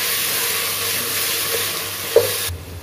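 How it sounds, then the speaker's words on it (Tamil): Onion, tomato and whole green chillies sautéing in a pressure cooker for mutton biryani, giving a steady soft sizzle with a light stirring clink partway through, close and continuous without talk. "வெங்காயம் நல்லா வதங்கிடுது"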